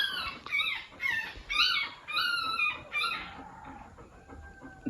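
Golden retriever puppies cry in a series of high-pitched whimpering squeals, about six close bursts with short pauses, heard indoors at night during a power outage.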